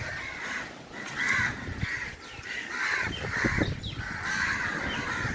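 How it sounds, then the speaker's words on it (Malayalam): Crows caw over and over at Thirumullavaram Beach, a loose chorus of harsh calls with faint ambient noise beneath. "കംപ്ലീറ്റ് കാക്കകളുടെയൊക്കെ ഒച്ചയാണ് ഇവിടെ"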